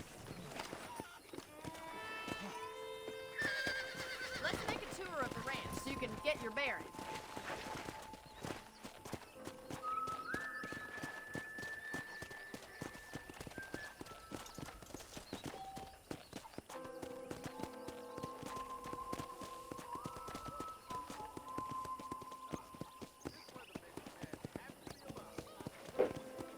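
Horse hooves clip-clop steadily in Red Dead Redemption while someone talks over them, backed by bright game-style music and occasional tonal chimes.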